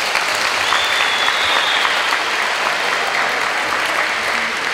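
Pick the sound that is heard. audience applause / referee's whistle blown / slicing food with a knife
audience applause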